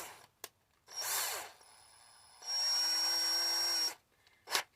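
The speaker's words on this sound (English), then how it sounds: "I'm going to clamp this in my power drill." A power drill with an Old Hickory butcher knife clamped in it whirs in two short bursts, spinning up and winding down, close and fairly loud, with small clicks and handling noises between.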